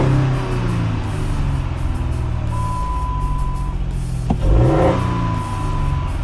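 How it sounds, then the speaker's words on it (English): A Dodge Magnum engine idling close up after being revived, a steady low rumble that swells briefly as the throttle is blipped, with a faint high tone running through part of it. "It already seems to kind of rev better."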